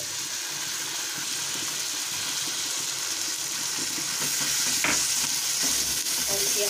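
Fried vegetables being stirred and mixed with ketchup in a pan for stuffed idli masala, a steady close sizzle with scraping and stirring strokes throughout, growing slightly louder toward the end, no voices.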